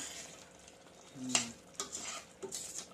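Creamy garlic mushroom curry simmers quietly in a pan, soft bubbling and faint sizzle broken by a few light clinks of a utensil against the pan.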